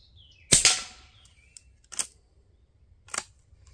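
Three spaced shots from a Derya TM LA .22LR rifle, each a short dry crack, the first loudest and nearest, with faint clicks of the action between them and no talking.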